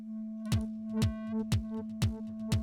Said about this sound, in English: that pumping sound and little bits of fills coming in is because it's being sidechained